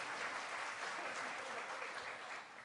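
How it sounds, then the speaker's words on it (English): An audience applauding, dense steady clapping from a sizable crowd that holds throughout and tapers slightly at the end. "Let's give them all a round of applause for being here."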